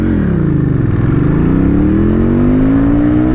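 A Pulsar 500 motorcycle accelerating hard from a standstill, its engine note loud and close, climbing steadily in pitch through rising revs with no gear break across the run.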